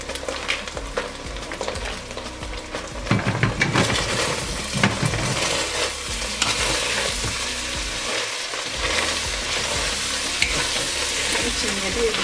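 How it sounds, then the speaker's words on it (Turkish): Green beans and minced meat fry in a pan, a steady close sizzle with stirring scrapes and occasional louder bursts throughout. "Biraz fasulyelerin sararıp kavrulması gerekiyor"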